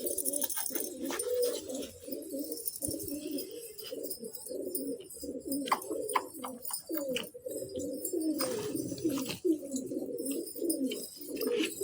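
Domestic pigeons cooing steadily in a loft, a continuous overlapping chorus of low burbling coos close by, with occasional faint chirps and rustles in the background.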